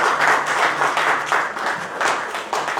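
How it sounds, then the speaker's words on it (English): Audience applause for a speaker being welcomed on stage at an evening mobile app launch event, a steady wash of many hands clapping at moderate loudness, sustained throughout without any voices. "A round of applause for Dr. Shebin Nazar."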